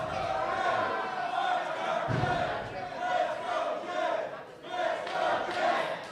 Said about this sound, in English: This crowd rallying behind Jedd. You can hear him chanting, "Let's go, Jedd! Let's go, Jedd!"